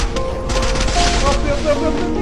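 Gunfire and grenade blasts from a Free Fire battle game, a dense run of rapid shots and booms held at steady loud level for a couple of seconds with voices mixed in.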